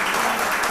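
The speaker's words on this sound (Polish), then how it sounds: "Duże brawa jeszcze raz dla nich." A brief burst of audience applause for a tango band at a gala in Wrocław: a full, even wash of many hands clapping, loud and close, lasting under a second.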